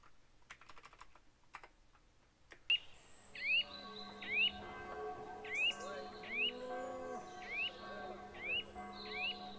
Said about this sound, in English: the birds and the outdoor noises are definitely closer